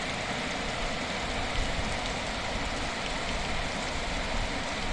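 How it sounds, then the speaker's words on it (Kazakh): Torrential April rain in Mangystau region, a thick unbroken roar of water pouring onto surfaces with a low rumbling undertone, constant and loud. "Маңғыстау облысында нөсер жауын."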